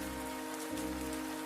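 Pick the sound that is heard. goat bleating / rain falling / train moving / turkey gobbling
rain falling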